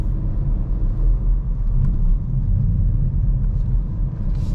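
A manual car's engine drones in a low, steady rumble while the driver shifts gears, with only slight swells as the clutch comes up and gas is reapplied; no talking.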